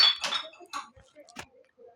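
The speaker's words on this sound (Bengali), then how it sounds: "দেখতে পাচ্ছি চামচ দিয়ে পুরটা ভরে দিচ্ছি।" A metal spoon clinks against a dish several times in short, bright, irregular taps while filling stuffing for a viral egg dish prepared with tomato sauce and kasundi, the clatter close and moderately loud.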